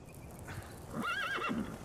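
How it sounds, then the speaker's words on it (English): A horse in the video game Metal Gear Solid V: The Phantom Pain gives a loud, wavering neigh, close by, with faint hoof clip-clop around it. "Get the horse."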